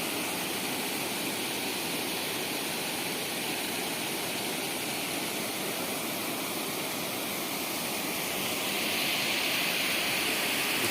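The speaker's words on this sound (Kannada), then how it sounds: "ನೀರೆಲ್ಲ ಫುಲ್ ಹರಿತಾ ಇದೆ" Water pours steadily over Maralwadi dam in the rainy season, a dense, continuous roar heard up close, loud and unbroken, with no voices.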